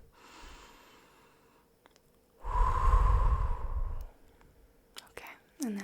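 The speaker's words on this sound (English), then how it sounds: "Let's take a deep breath." A single deep breath, drawn in slowly and then released in a long, close, airy exhale, soft and intimate in a quiet room, with a faint whisper before it.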